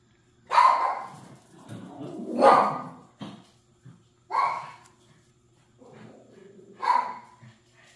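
A dog barks four times in sharp, separate bursts, spaced a second or two apart, close by with quiet gaps and a soft whine between.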